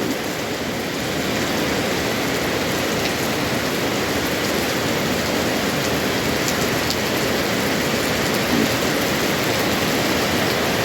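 Heavy rain pours down without pause in a dense, even hiss, close and loud, with no voices or other sounds.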